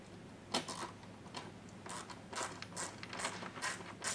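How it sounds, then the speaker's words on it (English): A Phillips head driver snugs screws on a Rokblokz mud flap on a 2022+ Hyundai Tucson, giving quiet bursts of ratcheting clicks in an irregular rhythm, close by and with no talking. "I'll go ahead and switch back over to our Phillips head drive."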